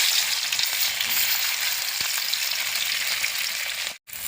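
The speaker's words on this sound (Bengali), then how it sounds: "মাখানো মাছটাকে আমি লাল করে ভেজে নেব।" Fish coated with salt and turmeric fries in hot white oil, a dense, continuous close sizzle that stays loud throughout, with a brief dropout near the end and no talk.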